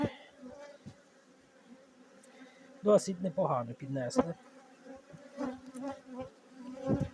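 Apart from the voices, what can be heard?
honey bees buzzing at a hive from a bee package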